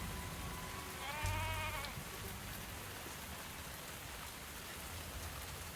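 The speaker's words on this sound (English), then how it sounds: "Oh, it's raining hard out there." Steady, dense rain hiss in the video game Tavern Talk fills the scene, with a brief sheep-like bleat early on; no talking.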